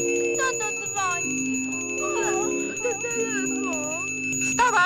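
Telephone ringing in a house in a children's story, a steady high electronic ring sounding continuously while voices talk and sing over it.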